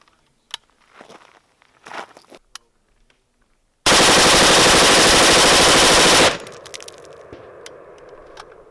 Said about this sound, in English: We'll reload this mag and we'll do a full mag dump on full auto.